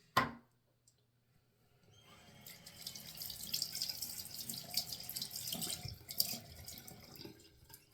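Water from a sink tap runs steadily to rinse a Gillette Super Speed safety razor. Near silence gives way to a continuous splashing stream, with small knocks and taps against the basin.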